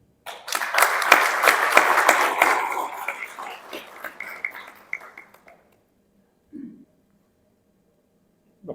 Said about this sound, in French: Là, on peut applaudir peut-être.